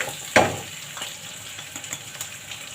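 Long, thickly sliced onions frying in a pan give a soft, close sizzle, with a sharp spike as they hit the oil early on, then faint crackles and light pops.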